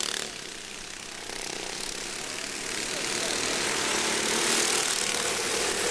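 Small backyard go-kart engines drone steadily during a heat race on a track, a continuous buzzing roar that swells slightly louder toward the end, heard at a moderate distance.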